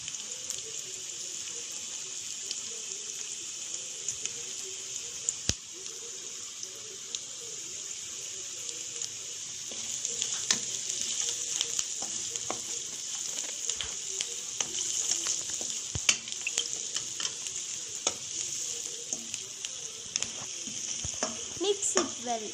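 Grated carrot rice with turmeric and salt sizzling in a pan, a continuous fry hiss under repeated close scraping and tapping of a spoon as it is mixed, with faint background noise.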